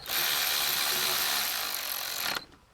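A ratcheting torque wrench runs a bolt down on the transmission of a 2013-2019 Subaru Outback during a solenoid replacement, giving a dense, steady buzz of fast clicks for about two seconds before stopping abruptly.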